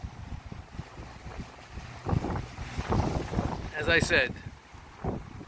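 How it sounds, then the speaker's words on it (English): Strong, gusty wind buffets the microphone on a stormy morning by the water in San Pedro, with rumbling surges and bursts while someone talks briefly over it. "This morning the winds were even more extreme. Right now they're blowing away."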